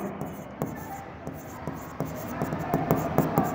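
Marker or chalk strokes scratch across a classroom board while an accounting entry is written out, a steady run of short scraping taps growing slightly louder, with faint talk in the background.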